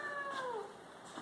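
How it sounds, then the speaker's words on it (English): A cat meows once inside a house, a single falling cry that is faint and distant, with no other sounds around it. "and a cat."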